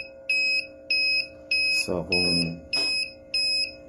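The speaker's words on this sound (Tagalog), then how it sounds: "Once na ma-empty yung day bin, mag-a-alarm siya." An automatic empty-level alarm on a day bin tank sounds as a series of regular, loud electronic beeps about every half second, with a brief voice speaking between them.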